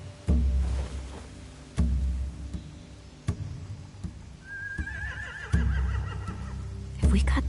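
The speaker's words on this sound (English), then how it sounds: "They have horses." Horses at a camp whinnying, with one rising neigh in the middle and heavy thumps and hoof-like knocks around it, while people talk quietly.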